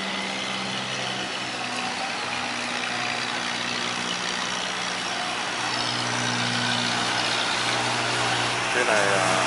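Small motorboats run into a canal lock in the Mekong Delta, a steady low engine drone with a chugging hum that grows a little louder toward the end while someone talks over it.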